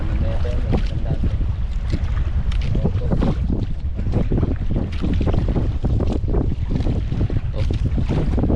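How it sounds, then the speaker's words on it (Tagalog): Strong wind roars across the microphone on a small fishing boat at sea, a dense constant buffeting with water slapping the hull beneath, loud and unbroken throughout. "natakbo kami dahil malakas ang hangin eh. Atangay kami ng hangin."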